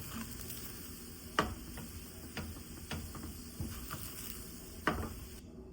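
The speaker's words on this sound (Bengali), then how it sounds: "এবার সবগুলো উপকরণ ভালো করে মিক্স করে রান্না করে নিব।" Spiced potato filling cooked in a pan for aloo paratha, with a soft steady sizzle under several distinct spatula scrapes and taps against the pan, close and fairly quiet, with no talking.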